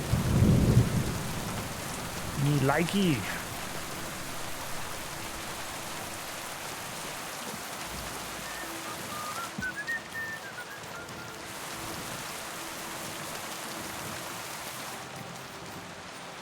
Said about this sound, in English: The rain, the thunder.